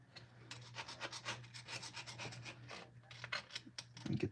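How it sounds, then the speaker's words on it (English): Carbon being scraped off engine valves of a Plymouth during a valve job: a quiet, steady run of rough rasping strokes at close range, repeating in an uneven rhythm, with a low hum underneath. "So I'm gonna just kind of scrape some of this carbonol off of here"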